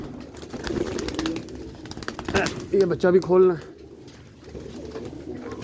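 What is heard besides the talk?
pigeons cooing on a rooftop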